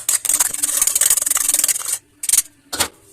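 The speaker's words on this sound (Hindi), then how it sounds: "अंडे में हम थोड़ा सा नमक डालेंगे, थोड़ा सा हम ब्लैक पेपर डालेंगे और हम इसे फेंट लेंगे।" Two eggs with salt and black pepper are whisked in a bowl for a chicken kabab sandwich, giving steady, close scraping strokes for about two seconds, then two shorter bursts after a brief pause.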